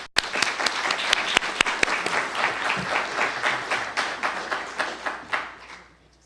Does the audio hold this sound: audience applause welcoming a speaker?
yes